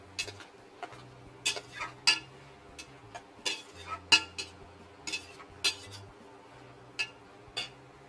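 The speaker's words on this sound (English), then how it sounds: "Now we're going to toss in the shrimp" Shrimp tumble into a cooking pan with a scatter of sharp clinks and ticks of metal, irregular and fairly close, over a low steady hum, for shrimp and lobster noodles.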